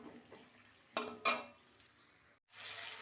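Chopped tomato frying in a pan after a cumin tempering, a faint soft sizzle broken by two sharp stirring scrapes, a brief gap, then a fuller sizzle returning.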